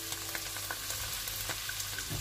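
A sauce of tomato ketchup, vinegar and soy sauce sizzles in a pan while being stirred, a dense steady crackle with soft scraping taps close by.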